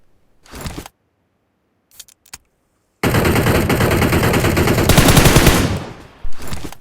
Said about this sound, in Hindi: साथ ही में फायरिंग का साउंड आता है एक जानिब से